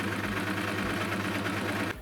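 Sewing machine running steadily as it stitches a tote bag made from a recycled skirt, a close, even mechanical whir that cuts off abruptly at the end.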